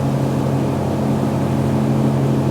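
A Sea Ray SLX 260 motorboat engine thrums steadily and loudly while the boat carves tight turns, a continuous close drone with a strong low hum and broad wash of water noise, no talking.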